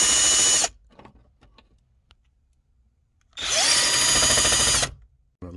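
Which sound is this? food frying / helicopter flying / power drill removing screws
power drill removing screws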